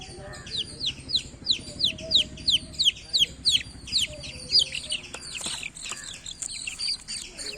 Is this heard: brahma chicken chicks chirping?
yes